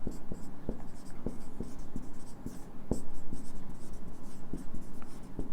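Someone writing a line, likely chalk or marker on a board: rapid rhythmic scratchy strokes with sharp taps, steady and close throughout, with a faint voice in the background.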